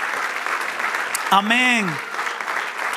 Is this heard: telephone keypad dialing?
no